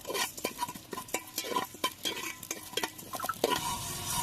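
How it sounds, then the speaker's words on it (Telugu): Poppy seeds frying in a pan for an Andhra country-chicken curry spice paste, stirred with a utensil that scrapes and taps rhythmically against the metal over a steady close sizzle, no voices. "2 టీ స్పూన్ల గసగసాలను వేసుకుని మరి కాసేపు బాగా వేగనివ్వాలి"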